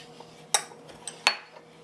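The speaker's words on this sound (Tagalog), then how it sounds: "And then we'll mix our matcha powder. Lucas is gonna mix it." Flour, matcha powder and salt are mixed in a bowl for spritz cookies. A few sharp utensil clinks against the bowl stand out over a quiet background hum.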